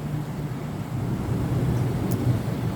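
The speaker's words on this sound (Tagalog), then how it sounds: "Uy, kumukulog-kulog pa." Low, continuous thunder rumbling near an outdoor resort swimming pool, a steady broad roar with no distinct claps and no talking.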